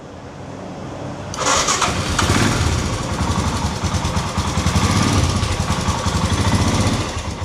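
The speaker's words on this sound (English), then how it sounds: "Let's start the engine." A Royal Enfield Himalayan 411 motorcycle, just fitted with a new stator, cranks and fires up, then settles into a steady, loud single-cylinder idle close to the microphone.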